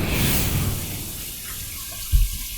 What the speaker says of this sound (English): A really cold, invigorating cold water splash and rinse.